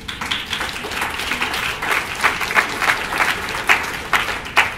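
An audience breaks into applause after a speech on progressive economic politics, a dense, sustained burst of clapping from a crowd of listeners, fairly close and without any voices.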